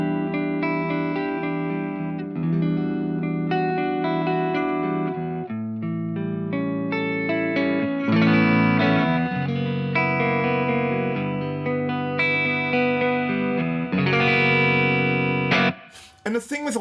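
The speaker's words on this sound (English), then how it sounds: "But this is just a clean sound on a Jazzmaster" Clean electric guitar played on a Fender Jazzmaster, sustained chords and single notes ringing with a bright, slightly reverberant tone, loud and close throughout with no voices.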